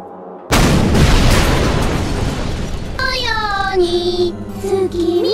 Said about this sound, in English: Someone needs to fire that big ass gun!